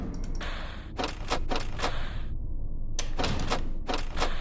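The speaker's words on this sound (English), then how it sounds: "Close vent." Vent closing in the video game Five Nights at Creeper's: a rapid series of loud mechanical clacks and thuds, like a metal shutter sliding shut, in two clattering bursts separated by a brief pause, with no voices.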